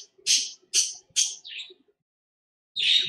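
Birds chirp outdoors in a series of sharp, close calls: four quick bursts, a pause, then one more loud chirp.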